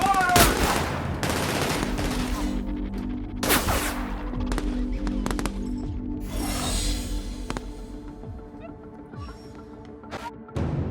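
Gunfire erupts in the video game The Outer Worlds, with loud, close bursts of rapid shots and single cracks that come in repeated volleys over a steady low rumble.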